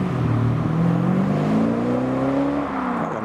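A Gardner Douglas sports car driving away from the Brooklands New Year Classic gathering, its engine droning and rising steadily in pitch as it accelerates, fairly loud and then fading slightly at the close.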